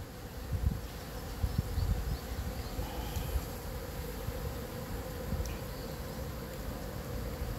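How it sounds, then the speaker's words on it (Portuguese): Italian honeybees buzz continuously around buriti palm flowers, a close, steady droning hum with a few louder passes as individual bees fly near. "As abelhas italianas se fartando com o pólen"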